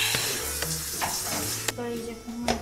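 Sliced ham stir-fries in a pan without oil for LA-style kimbap, a steady close sizzle and hiss punctuated by scraping and clacking of the utensil, with some faint talk in the background.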